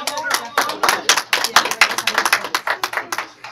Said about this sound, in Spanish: Un aplauso para Dash.